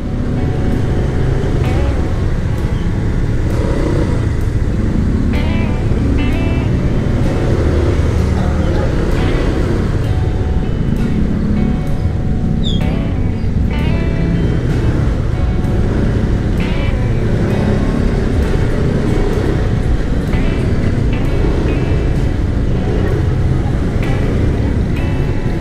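Steady, loud road traffic near Dampalit's mega dike, a continuous roar of passing vehicles with engines rising and fading throughout, under faint voices.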